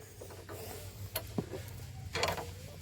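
Wrench ratcheting as CV axle bolts are tightened on a 2011 Ford Edge during an axle replacement, a few short metallic clicks and a sharper burst near the end, fairly quiet with no talking.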